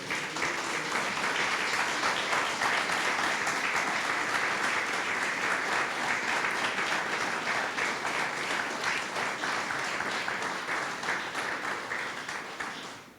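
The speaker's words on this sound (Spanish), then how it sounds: "Dale un aplauso a Jesús" Sustained applause from a church congregation at a Christmas sermon, dense and steady throughout, fading slightly toward the end with no speech over it.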